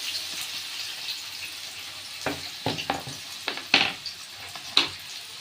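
Mustard seeds and chopped vegetables hit hot oil for a paneer curry, setting off a steady, close sizzle with a series of sharp stirring clatters and scrapes partway through.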